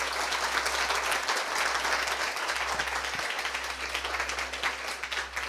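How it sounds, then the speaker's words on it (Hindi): A church congregation at a Hindi sermon bursts into sustained, dense applause, many hands clapping steadily and evenly for several seconds with no break. "आइए उस बीज के लिए ताली बजाएं।"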